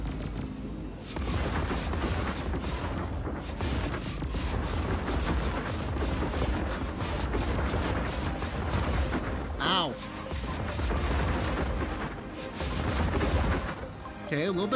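Rocket punch explosions in the video game Dreams go off in a rapid, dense string of booming blasts, with a person exclaiming and talking over them throughout.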